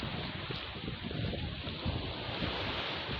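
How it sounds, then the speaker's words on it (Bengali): Surf roars steadily at Maheshkhali sea beach, a continuous broad wash of breaking waves mixed with wind buffeting the microphone, fairly faint and without talk. "এভাবেই কিন্তু পানি গর্জন করে থাকে দেখেন এই যে।"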